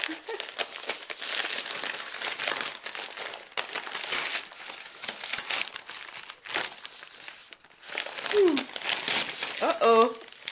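A big, thick paper envelope is handled up close. It gives repeated loud crinkling and rustling bursts with short pauses, under occasional talk.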